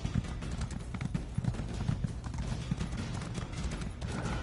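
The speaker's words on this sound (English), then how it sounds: "Ride that horse, ride them horses." Hooves clip-clop in a quick, steady galloping rhythm, close and continuous, with a low rumbling backdrop throughout; a horse galloping in the video game The Elder Scrolls Online.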